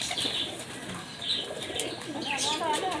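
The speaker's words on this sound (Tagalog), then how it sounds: "Kalapati." Pigeons kept by a hobbyist coo softly and continuously over faint background chatter and rustling, close by.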